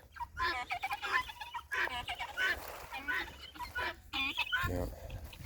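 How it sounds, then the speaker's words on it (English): Chickens cluck and squawk up close in a late-winter farmyard, several birds calling in irregular bursts that overlap one another, with no other sound standing out. "Lots of other chickens around also."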